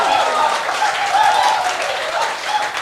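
Sustained applause from an audience at an Indonesian customs and excise dialogue event, a steady wash of many hands clapping at moderate volume for the whole stretch.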